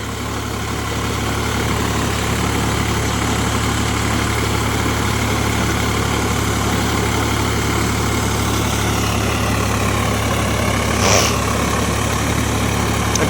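A Sonalika Rx47 4WD tractor engine runs steadily in deep mud, a loud, constant low rumble with a faint brief knock near the end, no voices.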